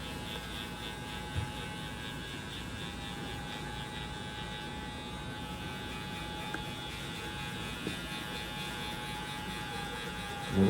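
Electric hair clippers buzz in a steady, close hum for the whole stretch while debulking during a taper fade, with only a few faint clicks and no talk.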